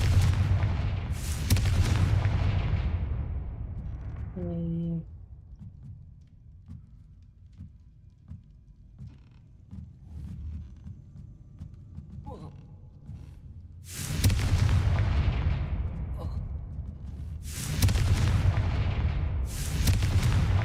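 Confringo blasting spell explosions in Hogwarts Legacy, several heavy booming blasts with long rumbling tails, one near the start and a pair of strong bursts later, separated by quieter game ambience.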